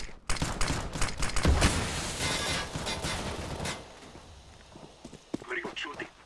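Rapid rattling gunfire in Counter-Strike: Global Offensive, dense bursts of shots over the first few seconds, then thinning to scattered pops and clicks with voices talking.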